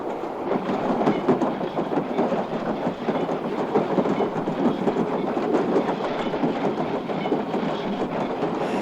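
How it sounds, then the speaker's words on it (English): Train cars roll along rails with a steady, loud clickety-clack rhythm and a continuous rumble lasting the full stretch, with no voices over it. "the train zigzagged on into the village of Liver and Onions"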